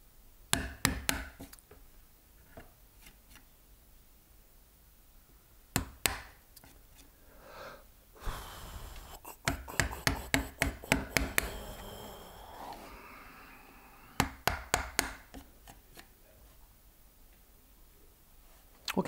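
A woodcarving chisel taps and chops against the grain in quick clusters of sharp knocks with pauses between, close and fairly quiet, with a brief splitting crackle in the middle.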